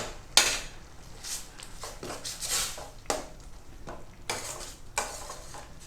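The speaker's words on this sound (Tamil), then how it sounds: "ஸோ அதை இப்போ இதில் போட்டு கிளறிடுறோம்." Cooked vallarai greens are stirred in a pan, a soft irregular series of scraping strokes and light metallic clinks at close range.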